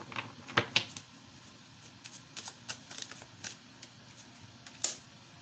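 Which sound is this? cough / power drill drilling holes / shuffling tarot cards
shuffling tarot cards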